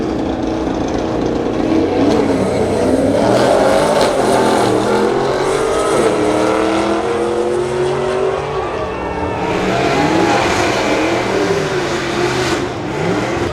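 R32 Skyline and Miata drifting at Atlanta Motor Speedway: loud, sustained engine revving with wavering pitch and tire noise throughout, engines rising and falling as the cars slide, with a voice faintly under the roar.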